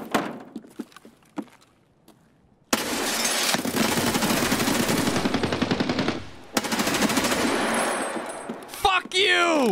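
Video game gunfire in a survival shooter like Rust or Tarkov: a few scattered shots, then long loud bursts of rapid automatic fire, a short pause, and another burst that ends in clanking.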